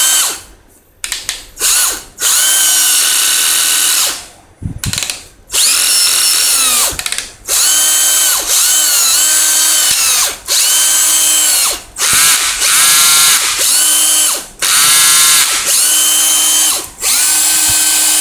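An 18V cordless power drill, repaired and run from a DC power supply, whirs loudly in repeated bursts of a few seconds each, with brief stops in between, close up.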